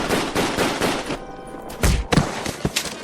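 Rifle gunfire in a radio drama: a rapid series of sharp, loud shots in the first second, then a brief pause and a few more heavy bangs and thumps, close and punchy.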